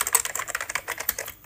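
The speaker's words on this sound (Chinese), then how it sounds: "既没有段落感又有打字的声音， 就是那个打字机的声音，" Rapid typing on a mechanical keyboard with grey, tactile-like switches and no bump, a steady run of close, crisp key clacks with a typewriter-like quality and no talk.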